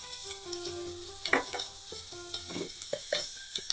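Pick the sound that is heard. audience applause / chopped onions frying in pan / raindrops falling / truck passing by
chopped onions frying in pan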